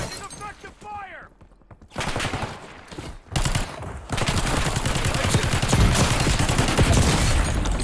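Rapid automatic gunfire and sharp bursts of shots from a military video game firefight, loud and sustained, with a voice briefly audible amid the shooting.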